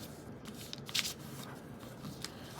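Origami paper being squash folded and creased by hand, giving soft crinkling and rustling with a few sharper paper snaps in quick succession, close and quiet.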